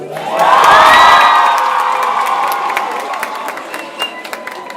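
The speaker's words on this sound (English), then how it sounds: "You guys make some noise" Large live audience at an onstage conversation event cheering, whooping and shouting, swelling loudly in the first second then sustaining as a dense roar with scattered claps.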